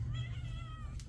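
A single house cat gives a brief, close meow with a rising and falling tone, alone over a low background hum.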